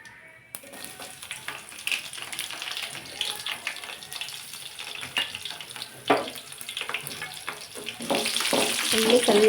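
Mustard seeds and garlic frying in hot oil: a close, steady crackling sizzle with scattered pops and utensil knocks, growing louder toward the end, no talk.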